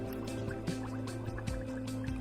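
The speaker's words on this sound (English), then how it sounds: "I bubble the carbon dioxide gas through the colourless lime water" Carbon dioxide gas bubbles through colourless lime water in a quiet, steady stream of small glugs and drips, heard alone.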